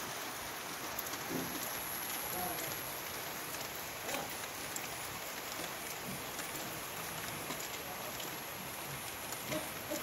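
Steady, dense rain pours over a village flooded after a night of heavy downpour, a continuous close hiss of drops hitting water and surfaces without pause.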